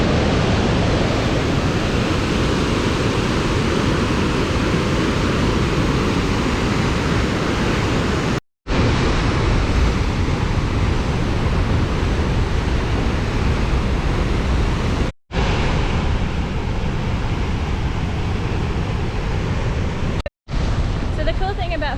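Thunderous, constant roar of Huka Falls, 200,000 litres of water per second plunging over rock, a dense wall of rushing noise heard up close, cut by a few brief silent gaps.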